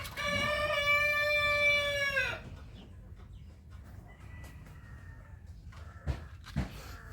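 Large roosters crowing, one long loud harmonic crow up close, then quieter clucking and scattered calls with a couple of sharp knocks near the end.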